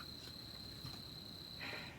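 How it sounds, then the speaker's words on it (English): A cricket chirps loudly and continuously at close range, a steady high-pitched trill running unbroken from start to finish with no other sounds. "insane cricket who is obviously at some kind of rave or something"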